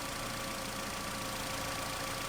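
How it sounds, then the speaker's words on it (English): A Renault car with a CVT gearbox idles while parked, a steady, unbroken engine hum with a faint rattle, heard up close and alone. "So while engine is running, check out the dipstick."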